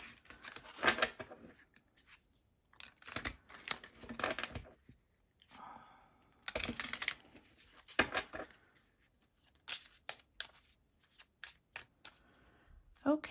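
Repeated bursts of playing cards being shuffled, crisp riffling rattles with short pauses between, close by, with a voice speaking quietly in places.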